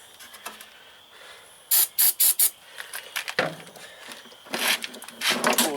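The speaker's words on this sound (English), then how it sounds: "throw some carburetor cleaner down the throat" Carburetor cleaner hissing from an aerosol can into the throat of a cheap Murray lawn mower's carburetor, four short loud sprays in quick succession followed by softer rattles and hisses close by.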